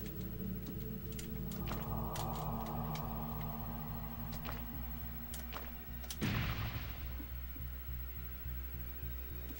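Gunshots in the PS1 game XCom UFO Defense, a few sharp cracks over a humming game background, ending in one heavy blast with a decaying rumble, no voices.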